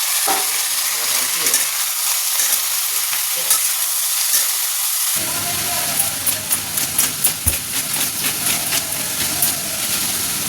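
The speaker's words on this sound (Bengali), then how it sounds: "এদিকে উচ্ছে ভাজাটাও হয়ে গেছে, হালকা ফ্রাই করেছি, ডিপ ফ্রাই করে নিই।" Bitter gourd slices sizzle while being deep fried and stirred in a pan, giving a steady hiss with a run of rhythmic scraping stir strokes in the second half.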